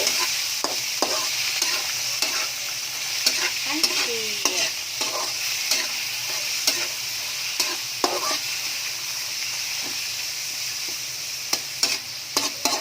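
Garlic and onion stir-fry in a pan for pancit guisado, giving a constant bright sizzle close up, broken by frequent scraping and tapping from a spatula stirring the pan.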